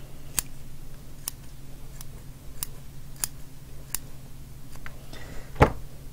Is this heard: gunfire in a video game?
no